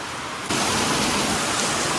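Rain pours in a dense, even hiss that switches on abruptly after a brief quieter moment, then holds steady and fairly loud with no talking.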